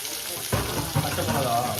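Curry leaves drop into hot oil for rava upma, setting off a sudden crackling sizzle that continues steadily and close, over a faint background voice.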